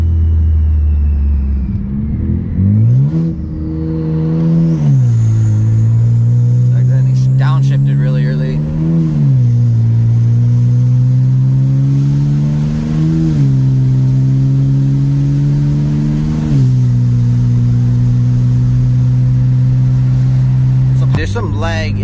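BMW 335i with a 19t turbo and tune pulling hard through paddle-shifted gears, a loud engine note climbing in pitch and dropping at each of several shifts, with brief talk over the engine.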